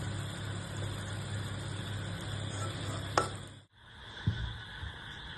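Butter paneer being stirred in a pan after garam masala and kasuri methi go in, a soft continuous scraping and sizzle with a brief sharp clink partway, a short dropout, then steady stirring resumes; no talking.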